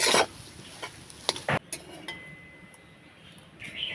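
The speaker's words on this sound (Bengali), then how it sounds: "আলুটাকে আমি ভালো করে কষিয়ে নেব নাড়াচাড়া করে" Potatoes with turmeric, cumin and coriander powder are stirred in a pan: a spoon scrapes and clinks against the metal in short bursts over a faint sizzle.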